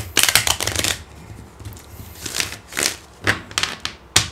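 Tarot cards shuffled and drawn by hand, giving bursts of quick riffling flutters and crisp snaps that come in short clusters with brief pauses between, close and fairly loud.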